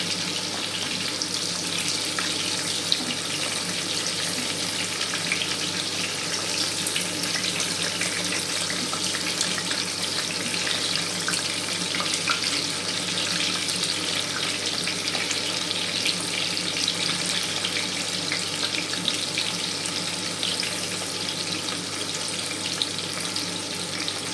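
Okra coated in gram flour batter fries in a pan over a medium-low flame, giving a steady, even hiss and sizzle that runs unbroken and alone for the whole stretch.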